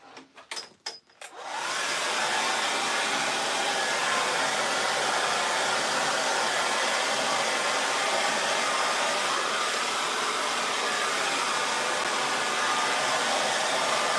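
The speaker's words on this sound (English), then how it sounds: "grab the hairdryer, and we will dry that quickly" A hair dryer blows steadily and loudly after a couple of seconds of brief handling noises, holding a constant airy roar to the end.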